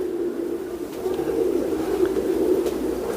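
A pair of teddy pigeons coos in a low, steady murmur that runs throughout, fairly close and continuous, with no talk over it.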